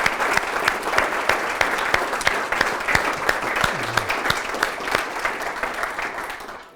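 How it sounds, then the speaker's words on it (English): Warm audience applause in a lecture hall after remarks thanking the organizers of a talk on the landscapes of Canadian Confederation; many hands clap steadily and fairly loudly throughout, with no voices over it. "sensing genuine enthusiasm in the applause there"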